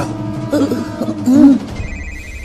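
A telephone rings in a repeating electronic trill, fairly loud and close, with some background noise around it.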